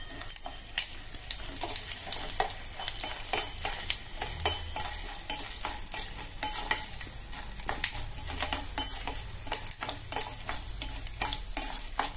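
Chana dal, urad dal, mustard seeds, cumin and a dried red chilli sizzle in a few spoons of hot oil. The steady crackling and popping continues with frequent scraping stir clicks from a spoon in the pan.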